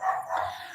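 A dog out in the street gives a single brief bark, heard from a distance over a steady background hum.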